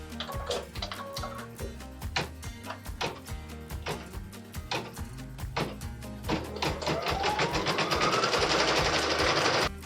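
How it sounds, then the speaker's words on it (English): A home embroidery machine stitches a placement line for a wheelbarrow tire, ticking in a fast, even rhythm with brief pauses, then settling into a denser, louder continuous run of stitches toward the end. "machine step number 5 is stitching the placement line for the tire"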